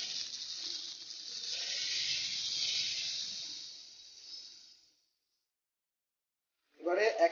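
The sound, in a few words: water poured into frying spice paste, sizzling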